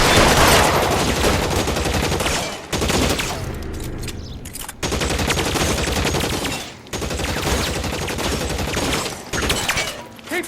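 Heavy, sustained gunfire in the crime video game L.A. Noire, a dense shootout of overlapping shots that rolls on for several seconds with brief gaps, loud and close throughout.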